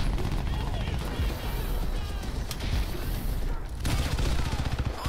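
Sustained gunfire from a first-person shooter match in Crysis 3 on PC, dense rapid bursts and shots filling the whole stretch with a short lull near the end, while a voice talks over it.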